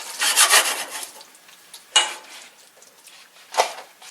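Butter and cane sugar stirred in a pan, a spoon scraping and rubbing against the metal in rasping strokes, with a few louder scrapes standing out from softer churning; no talking.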